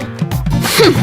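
One person sneezes abruptly and close by, a short sharp burst with a brief breathy lead-in and a rough nasal release.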